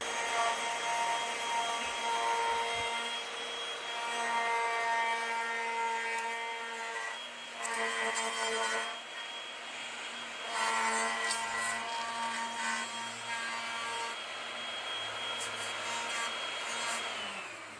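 A router cuts timber for a scarf joint, making a sustained high, whining cut that rises and falls in short bursts at close range, with no talk.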